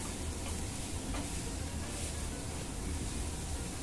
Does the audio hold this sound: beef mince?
yes